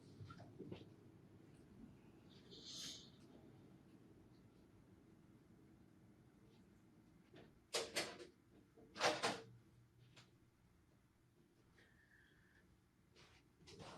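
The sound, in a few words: door being shut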